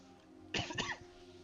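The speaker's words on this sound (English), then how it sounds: "Give me a second, I'm gonna cough." A single close, quiet cough with a short throaty rasp, alone in a still room.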